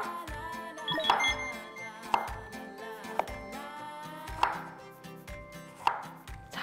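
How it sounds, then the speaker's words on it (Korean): A knife slices through ginger and lemon on a cutting board in a kitchen, with five or six distinct, crisp chopping knocks spaced about a second apart over a quiet background. "생강편 썰고, 그 다음 레몬 슬라이스로 썰게요"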